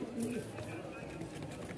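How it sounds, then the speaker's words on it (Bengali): A pair of Danish pigeons offered for sale gives a short, soft coo near the start while someone talks close by over quiet background noise. "এই এক জোড়া ড্যানিশ কবুতর দেখায়।"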